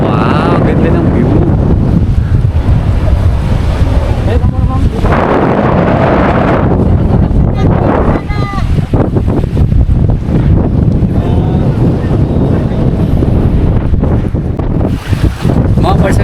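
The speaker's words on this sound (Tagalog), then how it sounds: "Ang lakas lang ng hangin pero yeah, sobrang ganda." On the breezy upper deck of a boat island-hopping near Ticao Island, Masbate, strong wind roars and buffets the microphone continuously, with water and engine noise beneath and voices talking intermittently.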